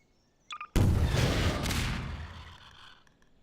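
A single loud explosion in the game Garry's Mod, a sudden booming blast that rolls off into a long, fading rumble, preceded by a couple of brief clicks.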